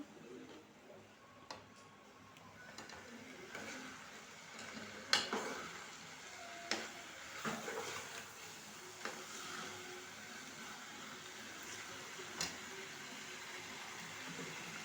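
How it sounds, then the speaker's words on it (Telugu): Eggplant and potato curry with tomato being stirred in a pan, a faint quiet scraping and light sizzle with scattered small ticks and clicks, low and steady throughout. "టమాటా వేసాను కదా మంచిగా కలిపిస్తున్నా"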